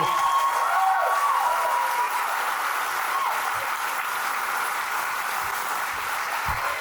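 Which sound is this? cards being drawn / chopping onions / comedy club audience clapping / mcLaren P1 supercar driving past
comedy club audience clapping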